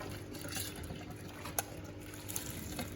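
A big pot of cooked pasta and water is tipped into a kitchen sink, giving a steady watery pour and trickle with a couple of brief clunks, fairly quiet and with no one talking.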